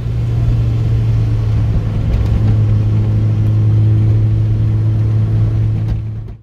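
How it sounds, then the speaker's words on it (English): Lotus Elise S2 out on a drive to bed in new front brake pads and rotors, a loud steady engine hum with road noise that holds for about six seconds before cutting off abruptly. "it's time to take the car out to get the brakes broken in"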